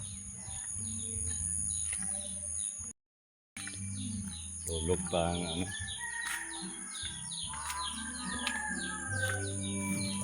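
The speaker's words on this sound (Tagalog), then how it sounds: "daming ibon kumakanta" Birds chirp and sing continuously nearby and in the background, with a person talking briefly over the birdsong.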